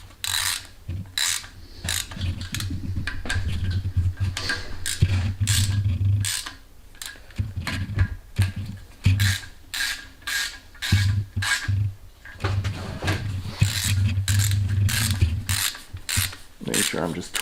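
A hand ratchet clicks in quick, close bursts while cam caps are snugged down on a Honda B-series engine in an EK coupe, the rapid pawl rattles repeating with short pauses between strokes.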